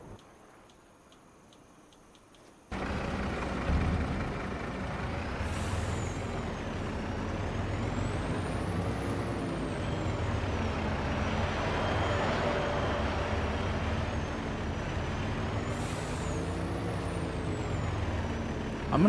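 Truck in Farming Simulator 25 on an Australian map: a sharp air release gives way to a steady loud diesel engine drone, with brief hissing air brake bursts near the start and later on.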